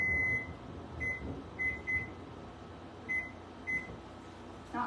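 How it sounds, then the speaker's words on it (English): A modern microwave oven runs in a kitchen with a low steady hum, interrupted by a series of short high electronic beeps. "Not quite used to that microwave yet."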